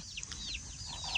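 A chicken clucks in short, repeated bursts, several quick calls close by over a quiet farmyard background.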